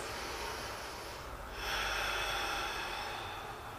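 Deep breathing during a barre workout while holding a position: a slow, soft exhale followed by a longer, louder inhale, close and breathy, with no talking.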